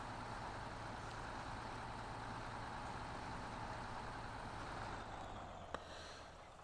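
In SnowRunner, a Voron truck pushes forward with a continuous heavy engine rumble, constant and close, broken only by one short sharp knock near the end.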